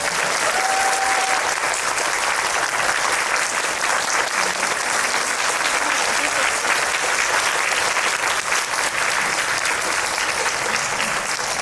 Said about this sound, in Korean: 큰 박수로 맞아주시면 감사합니다.